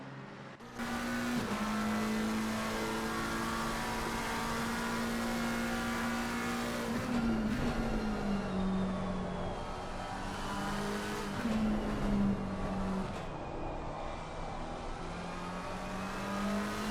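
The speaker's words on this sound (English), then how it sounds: "heading down the back straight now, you can see it's a McLaren and Ford sandwich here" Race cars, a McLaren and a Ford, run down the back straight at Suzuka in a console racing game, with steady high engine drones that shift pitch as they hold speed and trade places, continuous and loud throughout, no talk.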